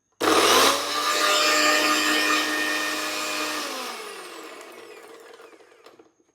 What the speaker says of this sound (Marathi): आता अद्रक लसूण मी मिक्सरला लावेल